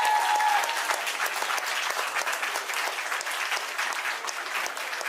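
An audience applauds podium finishers at a British Open women's competition, a loud sustained burst of clapping filling the whole stretch with a faint crowd murmur and no speech.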